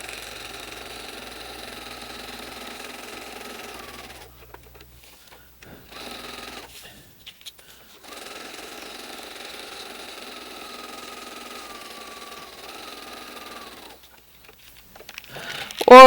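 A sewing machine tacks down a quilt block, whirring in sustained runs of rapid stitching broken by short pauses and a longer gap, with a brief clunk at the very end.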